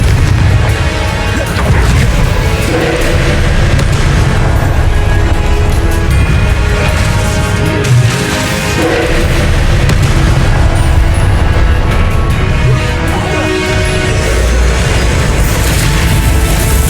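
A Confringo spell in Hogwarts Legacy lets off a dense, loud run of booming blasts layered over thick game music. The sound is continuous and heavy, with no clear gaps.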